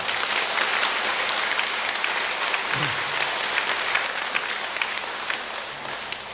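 A church congregation claps together in thanks, a dense, sustained burst of many hands heard at close range, gradually easing toward the end, with a brief low voice briefly under it.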